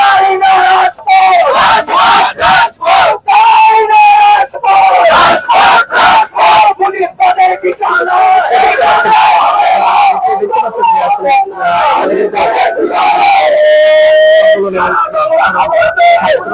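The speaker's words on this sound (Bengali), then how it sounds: "আপনারা নিশ্চয়ই দেখতে পাচ্ছেন ছাত্র জনতা নানা স্লোগান দিচ্ছেন" A large crowd of students chanting slogans at a nighttime protest outside the Gazipur district commissioner's office in Bangladesh, loud rhythmic collective voices and shouts continuing throughout.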